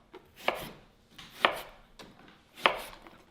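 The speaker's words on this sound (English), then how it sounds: "So we'll do a nice slice of lemon." A knife slicing through a lemon on a cutting board, three crisp, close cuts spaced about a second apart, alone with no talking.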